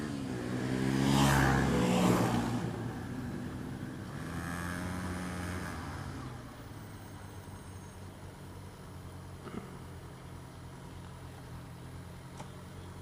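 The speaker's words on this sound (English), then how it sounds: "Is that a dirt bike and a four wheeler?" A dirt bike and four-wheelers ride past outdoors, their engines swelling loudly at first and then fading to a lower drone as they move away, with no talking heard.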